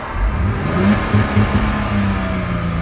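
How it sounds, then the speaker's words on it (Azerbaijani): A Mercedes W210 engine, after a throttle-loss fault repair, revs up close and loud as the throttle is pressed, rising and holding with a few short surges. "Qaz veririk."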